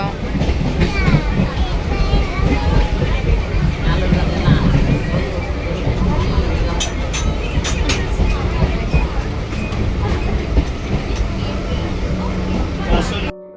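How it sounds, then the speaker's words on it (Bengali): A moving train rumbles and rattles steadily inside a carriage, with wheel clatter and a busy babble of passengers talking throughout. "এখন ট্রেন ছেড়ে দিয়েছি"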